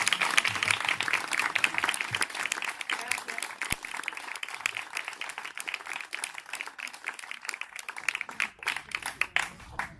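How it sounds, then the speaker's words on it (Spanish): Audience applauding after a talk by a doctor at Can Vilumara, a moderate room of clapping hands that starts dense and thins into scattered, sharper claps toward the end. "Un aplauso enorme, ¿verdad?"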